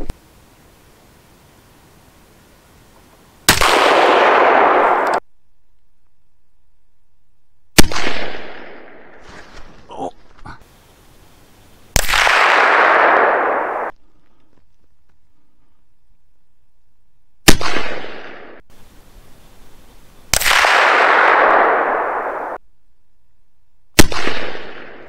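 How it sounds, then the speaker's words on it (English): A Sako rifle and a Tikka rifle fire outdoors, five loud single gunshots spaced several seconds apart, each a sharp blast followed by a short decaying echo, with quiet rustling between shots and no talk. "I'll shoot the Sako first"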